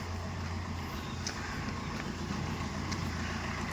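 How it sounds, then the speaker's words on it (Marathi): A red vehicle setting off early in the morning for a trek to Tamhini Ghat: a continuous close engine rumble with a steady low hum and an even level throughout. "लाल गाडी जाणार आहे"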